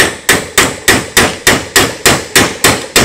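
A Mac Tools extractor socket is hammered onto a stud with about ten loud, close metallic strikes in an even rhythm, each ringing briefly before the next blow.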